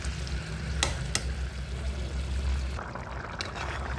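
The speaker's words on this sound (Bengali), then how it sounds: "সেই সিদ্ধ আলু সিদ্ধর জলটাই আমি আলুতে দিয়ে দিলাম।" Salted water from boiling potatoes poured into a pan of potatoes being cooked for a vegetarian aloo dum, a continuous near sizzle and splash with a few sharp clinks.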